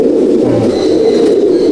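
Loud, continuous cooing from a crowd of Andhra and Madrasi pigeons packed into a loft in Halisahar, heard up close with no talking.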